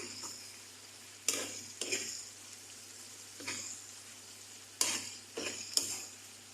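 Bopis cooking in a pan, a steady low sizzle with a spoon scraping through it in several separate stirring strokes, close and fairly quiet.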